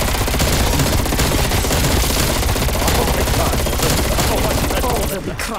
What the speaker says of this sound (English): I'm shooting, I'm doing all I can.